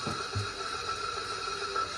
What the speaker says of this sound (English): I like this tremolo riff and the blast.